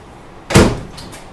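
Microwave door swung shut in a home kitchen, a single short thud-like closing knock with a faint trailing rattle, close by and without talk.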